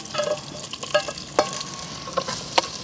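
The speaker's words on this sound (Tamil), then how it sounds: "வெங்காயம் பச்சை மிளகாய் நல்லா வதங்கிட்டுது." Onion, green chili and garlic saute in a pan with loud frying sizzle, broken by clinking stirring strokes at irregular intervals.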